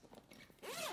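A YKK zipper on a travel bag pulled in one quick, close zip after a few faint fumbling sounds, crisp and brief in a quiet room.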